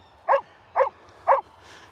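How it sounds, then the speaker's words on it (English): Three short, evenly spaced dog barks from one of nine dogs at a home in Scotland, moderately close and alone against quiet background. "We've already had some barking."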